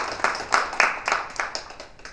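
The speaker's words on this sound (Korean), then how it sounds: "박수 부탁드립니다" A small audience at an award ceremony claps for the contest judges: a handful of sharp, closely spaced claps in a fairly regular rhythm, near and moderately loud, with a faint room hum underneath.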